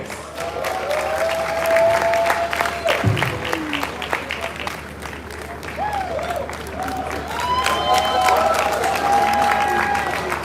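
A crowd at the African Creators Summit applauds a musical artist's introduction, sustained clapping with some cheering and whoops over a low hum, with people talking faintly beneath.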